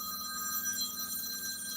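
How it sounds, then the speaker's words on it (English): A telephone ringing with a bright, electronic warbling ring, steady and fairly loud, heard alone with no talk. "And that will be Michael ringing me."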